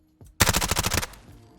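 A short, loud burst of about eight rapid MP5 submachine gun shots in a Fallout 4 mod, preceded by a soft click and trailing off in a brief echo.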